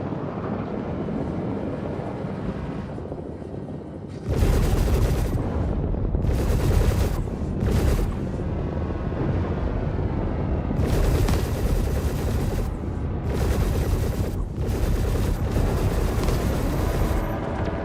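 Spaceship cannons fire in bursts during a Star Citizen combat mission: after a quiet opening, heavy booming volleys of rapid shots come in repeated loud stretches separated by short pauses, with no talking.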